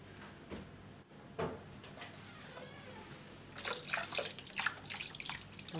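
Tap water running and splashing into a sink while tripe is rinsed, soft at first with brief splashes, then a louder, busier spray of water toward the end.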